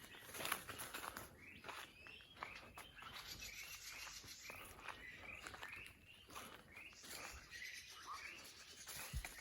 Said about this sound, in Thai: เสียงนกร้องดังมาก